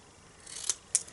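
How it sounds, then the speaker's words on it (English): Sharp long-bladed scissors snip freehand through card, two crisp quiet cuts in quick succession, close and alone. "Nice sharp scissors, nice long blade,"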